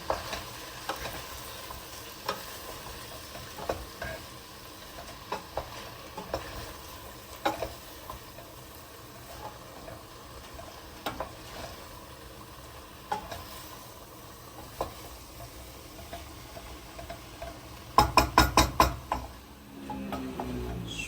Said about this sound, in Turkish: Domatesini de ekliyoruz. Tekrardan karıştırıyorum.